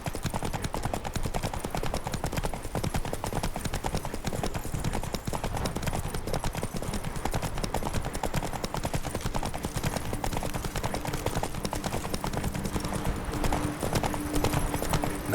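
Hooves of the horse Roach galloping in The Witcher III, a fast, steady clip-clop rhythm running throughout under a busy game soundscape of ambient noise.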